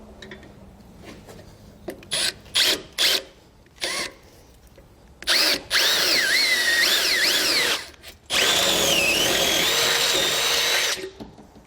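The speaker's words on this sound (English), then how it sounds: "Now I'm going to use the drill bit recommended in the instructions to get that job done." A power drill bores holes into a 2017 car body while a Roadmaster Direct-Connect tow base plate kit is fitted. Short loud bursts come first, then longer sustained whining runs with a brief pause between them, close up and with no talking.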